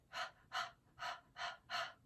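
Five quick, evenly spaced breathy puffs of exhaled air, close and clear with no talking, forming a steady panting rhythm during a breathing exercise.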